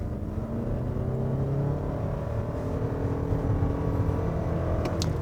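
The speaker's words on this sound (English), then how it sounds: "Now when I mash the throttle," A 2021 Toyota Venza hybrid accelerates under hard throttle, its engine drone heard from inside the cabin rising steadily in pitch over several seconds amid road and tire noise.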